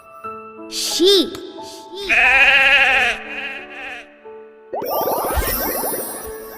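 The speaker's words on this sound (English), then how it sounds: "Sheep." Sheep bleating, a loud wavering bleat of about a second, mixed with chimes and a voice in a children's animal-identification lesson.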